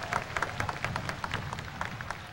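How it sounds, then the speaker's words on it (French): Scattered applause from a gathered audience at a political speech, soft and somewhat distant, with uneven claps pattering for a couple of seconds. "Demos un caluroso aplauso."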